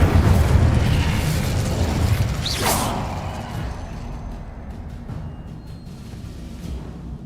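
An Incendio fire spell cast in Hogwarts Legacy: a loud, rumbling blast with a rising whoosh partway through, then a long fading roar into quiet.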